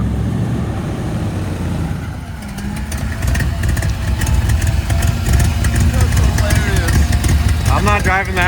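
A vehicle engine idles, then rises in revs as it pulls away with wheel spin, loud and close, with people talking over it.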